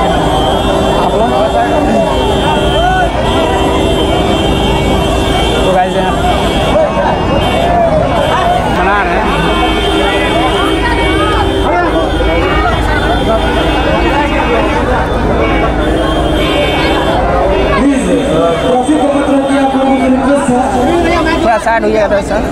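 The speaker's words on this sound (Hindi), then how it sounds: "तो गाइस देख सकते हो यहाँ पे भीड़" A large crowd gathers at a Bhojpuri film star Ravi Kishan's public appearance in Samastipur, Bihar, producing a dense, continuous outdoor hubbub of many overlapping voices, with vehicle and engine noise mixed into the steady din throughout.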